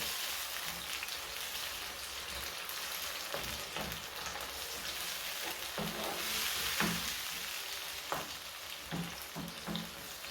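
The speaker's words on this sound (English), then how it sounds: "Now you let your tomatoes boil for some time, just a minute." Blended tomatoes boil in a pan for a noodle meal, giving a steady, fairly close bubbling hiss with soft pops scattered through it. No one speaks.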